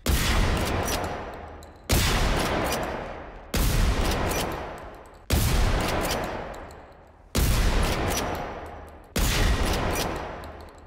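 Heavy gunfire aimed at a tank in the Generation Zero survival game, six evenly spaced booming blasts, each with a long decaying rumble, loud and close.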